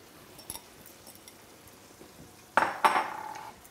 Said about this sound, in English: I am going to add my 1 pound of shelled prawns.